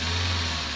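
A Toyota or Honda car engine running after an IMA sensor fuel mixture adjustment gives a brief, steady, loud mechanical drone with no talk.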